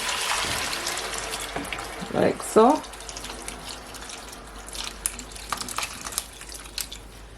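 Hot water is poured from a kettle into a pot of Jamaican oxtail in a short, close gurgling burst with a splash, set among soft kitchen clatter while someone talks.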